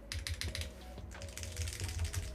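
Keys on a wired mechanical keyboard are struck in quick, uneven bursts of clacks close up, with a short pause midway before typing resumes.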